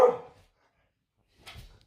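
Dogs in a home, with a short burst of barking at the start, then silence, then a softer second burst of yips near the end.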